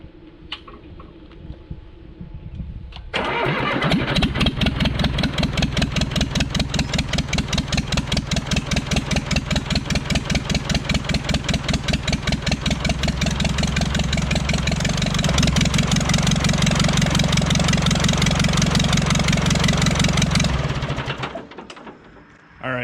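A John Deere 450B dozer diesel engine cranks and catches, then runs loud and close with a rough, chugging beat from inconsistent combustion in one cylinder, uneven firing throughout, before cutting off near the end.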